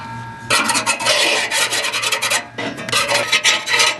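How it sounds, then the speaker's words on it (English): A knife blade scraping built-up residue from inside an old barbecue grill, a loud continuous rasping that starts after half a second, keeps going in rough strokes, dips briefly near the middle and then resumes, with no talk. "I'm going to take my knife and just scrape it."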